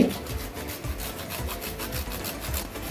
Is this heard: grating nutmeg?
yes